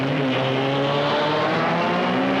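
Several 1960s Ferrari racing cars roar away together at a race start, a dense steady engine drone with rising harmonic tones, loud and continuous without pause.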